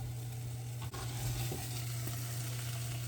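Omelet eggs fry in a small pan with a soft, steady sizzle, quiet and close, broken briefly by a light stir early on, with no voices.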